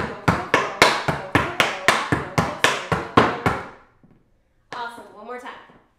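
Tap shoes beat out a Broadway-style Shirley Temple variation of flap heel, heel, spank, heel and toe in an evenly spaced run of about a dozen loud, sharp strikes, then a short pause before a brief spoken phrase.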